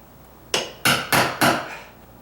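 Four sharp hammer taps on a chisel, evenly spaced and close, while cutting a mortise for a deadbolt strike plate in a door frame; each strike rings briefly and decays, with no talking.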